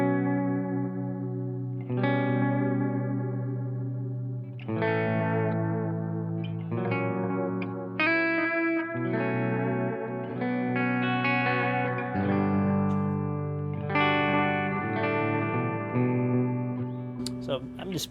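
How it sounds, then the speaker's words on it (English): Warm analog delay from a Diamond pedal set to fast repeats, trailing a clean, lightly chorused electric guitar as it noodles through chords and single notes; each phrase smears into soft echoes, played alone without talking. "this is the that's the analog delay, the diamond. Right now it's very fast. So listen to the repeats of that delay."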